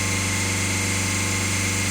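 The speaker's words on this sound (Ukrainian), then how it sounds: "Ось так він газує сам." A VW Golf 1.6 TDI diesel engine running steadily by itself during an automatic adaptation routine after DPF and EGR cleaning, a close, even drone with no talk.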